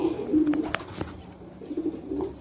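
MacArthur clocker racing pigeon cooing up close, a few soft throaty coos in a loose rhythm against low background noise.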